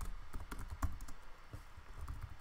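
Computer keyboard being typed on at a desk: quick, light key clicks in an irregular run, close and faint, with no talk.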